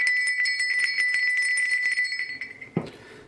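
A small metal crotal bell, the smallest of four sizes, jingles rapidly and continuously with a bright ringing tone, then stops with a soft clunk.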